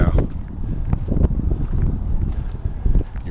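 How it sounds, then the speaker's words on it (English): Low, gusty wind buffets the microphone outdoors beside a partly frozen river, a steady rumbling roar with irregular swells and no clear voices. "You're probably hearing wind."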